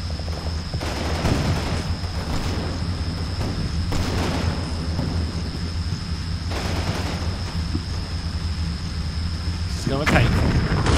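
Tank guns firing shells in the wargame Combat Mission Red Thunder, a continuous loud barrage of booming shots and explosions over a steady rumbling battlefield, with a sustained high whine above it.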